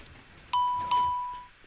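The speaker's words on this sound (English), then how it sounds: "We hear a little chime" Two bright electronic chime tones from a Minecraft elevator call button, ringing out close and clear in quick succession and then fading over a quiet background.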